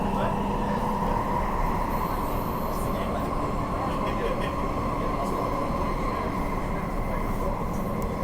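Steady rumble and rolling hum of a packed passenger train moving near Perth, a constant loud drone with faint high squeals and crowd murmur underneath.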